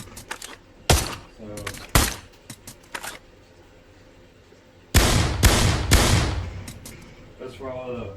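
Single gunshots fired in the VR game Pavlov crack out sharply and loudly, spaced a second or so apart, with a quicker cluster of three toward the end. Someone talks between the shots, alongside softer clicks and handling noises.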